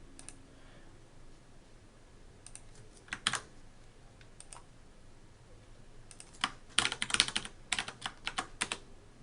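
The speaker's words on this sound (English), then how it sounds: "Let's go ahead and enter that." A password being typed on a computer keyboard in a quiet room, with scattered clusters of quick close key clicks and a denser run of taps near the end.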